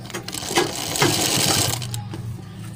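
A sewing machine stitches a collar for a neck design, its needle running in quick, even mechanical clatter up close for a couple of seconds, with no talk.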